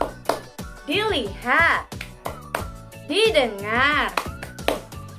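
Classroom focus clapping routine, sharp rhythmic hand claps in a patterned sequence interleaved with a child's chanted words, close and crisp.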